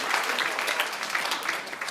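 Dense, steady applause from a stand-up comedy audience fills the room, loud and continuous without a break.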